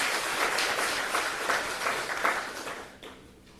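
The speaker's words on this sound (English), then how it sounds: "let's give them a round of applause" Audience applause at a satellite ground data receiving station handover ceremony, a moderate wash of clapping from a crowd that holds steady for a few seconds, then fades out.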